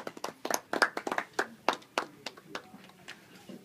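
A small audience applauding Senator Fuchs at a civics presentation on a bicameral legislature: a brief burst of close, uneven hand claps that thins out toward the end.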